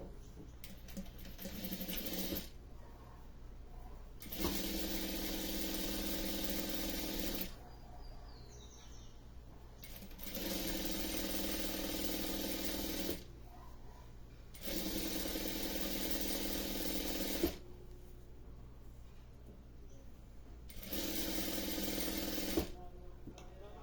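Sewing machine stitching a joining seam on a toy rabbit, running in several steady bursts of a few seconds each with short pauses between, loud and close with a mechanical ratcheting whir.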